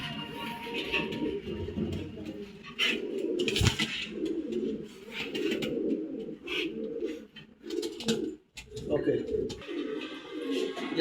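Pigeons in a loft coo in repeated soft, throaty phrases close by, with someone talking over them and brief handling knocks and rustles between calls.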